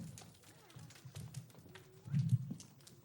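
Audience members imitate horses' hoofbeats with their voices or hands, a brief, busy patter of clip-clop tapping that swells toward the end, with crowd noise mixed in.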